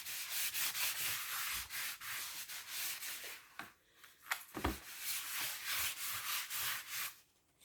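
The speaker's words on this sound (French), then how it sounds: "je prends une petite chiffonnette, je frotte bien" A small cloth rubs briskly over kraft paper to wipe off excess ink, making soft, papery swishing strokes in quick repeated bursts with a brief pause midway, close and fairly quiet.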